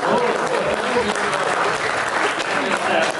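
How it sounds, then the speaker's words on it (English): Audience applause for a speaker at a live talk event, steady dense clapping from a crowd filling the whole stretch at a loud, even level. "Let's give him a round of applause."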